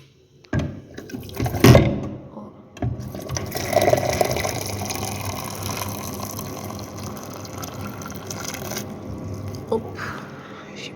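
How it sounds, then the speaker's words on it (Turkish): Water running from a public drinking fountain into a container in the early morning, a steady close stream with a louder gush near the start, cutting off toward the end. "Yani şimdi Sebil'den su alacağım."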